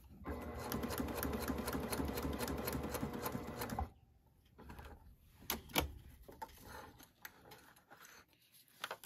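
A Brother PQ1500SL sewing machine stitches through thick folded waterproof canvas in a fast, steady mechanical run for about four seconds, then stops, followed by scattered clicks and handling noises.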